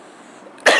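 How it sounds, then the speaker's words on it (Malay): A single sharp cough bursts out close and loud after a quiet stretch of near-silence, ending the moment abruptly. "sorry lah, batuk sikit."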